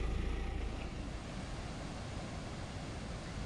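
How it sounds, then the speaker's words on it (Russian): Låtefossen, a double waterfall in Norway, roaring as a steady, dense broadband rush of falling water, loud and continuous with no voices. "Водопад Лотефос, двойной водопад."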